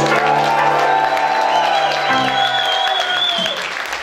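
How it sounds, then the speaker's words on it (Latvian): Audience applause and cheering for the band's musicians at the Klusie ūdeņi 2015 concert in Aizkraukle, Latvia, a steady dense roar of clapping with whoops, while a man announces over a loud sound system. "Un vislielākās ovācijas šodienas muzikantiem"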